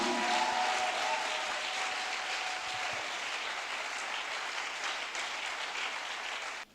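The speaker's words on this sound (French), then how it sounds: "give the Lord a big clap offering" Sustained applause from a church congregation during a service, steady and dense, slowly tapering toward the end.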